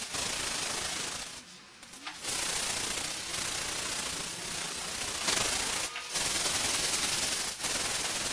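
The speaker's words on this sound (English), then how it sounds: "you sand down with your 150, you can see your high and low spots" Continuous dry scraping and rubbing of 150-grit sandpaper across the metal hood of a 1959 Chevy pickup truck, close and steady, with a few brief pauses between strokes.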